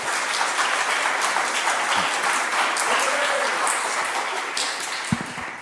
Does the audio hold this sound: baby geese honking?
no